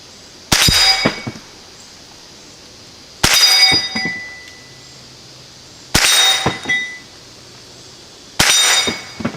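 A freshly painted steel gong target is struck by shots from a GSG16 rifle: four loud, sharp metallic clangs about three seconds apart, each ringing and then decaying into quiet.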